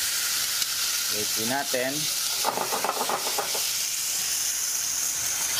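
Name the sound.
chicken skin bits sizzling in pan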